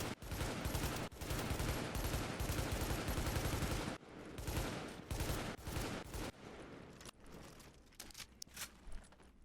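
Loud bursts of SA-58 rifle fire in the video game The Division, with rapid automatic strings split by short gaps. Later shots are more scattered and echo over a steady combat background.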